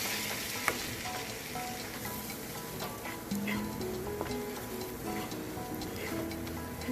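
White flour (maida) fries in a pan for a white sauce, a soft, steady sizzle with light stirring and faint ticking scrapes, quiet and close with no talking.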